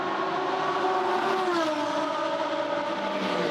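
A GT race car from the 2015 GT Masters series at the Red Bull Ring roars steadily at high revs, its engine note sliding lower midway as it sweeps across the timing line.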